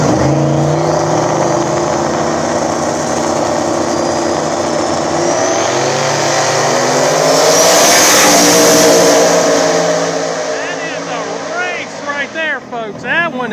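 Small-tire no prep drag race between a New Edge Mustang and a turbo Fox body Mustang, with loud engines roaring down the track, rising in pitch and fading, under an announcer's commentary.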